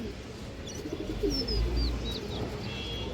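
Big-headed pigeons, a large high-flying breed, give low soft coos in a loft, a few rounded calls rising near the end over a steady hum, with faint chirps from other birds higher up.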